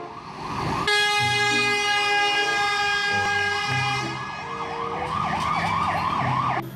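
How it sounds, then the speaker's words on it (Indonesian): A toy fire truck siren wails steadily and loud, with a repeating electronic rising-falling tone over buzzy mechanical toy sounds, running almost the whole time after a brief quiet start. "Di sini ada mobil pemadam kebakaran."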